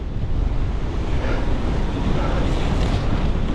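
Strong wind at the Carrefour de l'Arbre roars against the microphone in a loud, continuous, buffeting rush that fills every moment.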